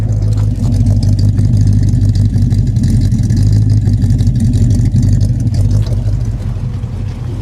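A 1967 AMC barn-find car engine with a worn carburetor, revving loud and close in a steady throaty roar that holds for several seconds, then eases slightly toward the end.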